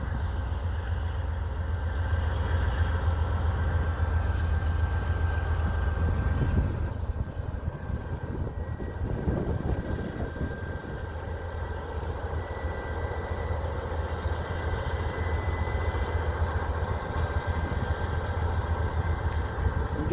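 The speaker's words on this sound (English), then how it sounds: "now that train is passed, this one seems to be moving." A freight train rolls along a mainline in Berea, Ohio during a snowstorm, a steady low rumble and droning engine noise that stays fairly constant, dipping slightly partway through, with no talking.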